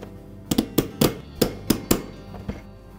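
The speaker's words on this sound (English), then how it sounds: "We'll use our punch and our hammer to knock that out." A hammer strikes a punch to drive out a roll pin from a GE refrigerator's crushed/cubed ice solenoid assembly: about eight sharp, close metallic taps in an uneven rhythm, with no talking.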